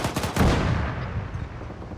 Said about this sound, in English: we're just gonna start firing explosives into it